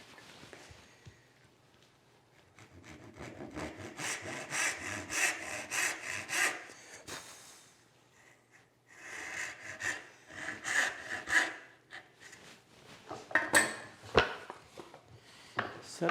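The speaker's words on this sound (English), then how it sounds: "Use my dovetail saw for that." A dovetail saw cuts wood for a frame and panel door. It makes close, rhythmic rasping strokes in two long bouts with a brief pause between them, and the later strokes grow louder and choppier.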